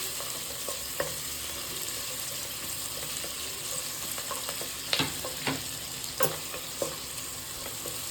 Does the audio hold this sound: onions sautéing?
yes